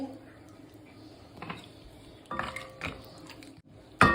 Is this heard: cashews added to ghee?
yes